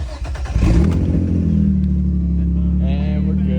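A Nissan VQ V6 in a G35/350Z cranks briefly and catches, then settles into a loud, close, steady idle with a rev, as a voice speaks over it near the end.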